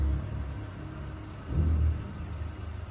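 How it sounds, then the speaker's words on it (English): A heavy vehicle rumbles low and steadily in an audio-drama effect of rolling over a person, and the engine swells briefly toward the middle. There is no speech. "You feel the vehicle's crushing weight as it rolls over and rips through you."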